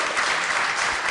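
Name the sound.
audience applause at a debate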